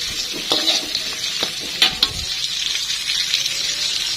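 Salted squid and petai are stir-fried in a pan, giving a steady close sizzle broken by scraping stirs and a few sharp clacks of the utensil.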